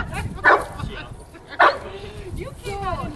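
An insecure dog gives two short, loud barks about a second apart, with people talking close by between and after them.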